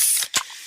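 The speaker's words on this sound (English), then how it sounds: "that's the sound of a freshly opened fizz-filled Pepsi" A freshly opened can of Pepsi cola gives a close, crisp hiss of escaping fizz, cut by a short sharp crack of the tab, then a quieter lingering carbonated fizzle.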